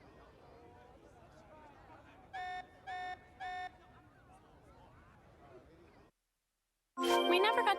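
An alarm sounds aboard ship in Xenoblade Chronicles 3 as three evenly spaced electronic tone pulses over quiet background bustle. A brief silence follows, then a sudden loud burst of bright sound.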